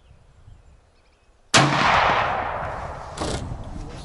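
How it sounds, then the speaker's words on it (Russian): A Los 145 rifle firing TulAmmo cartridges outdoors: one sudden loud, close shot with a long rolling echo that decays slowly. "Выстрелил опять все четко."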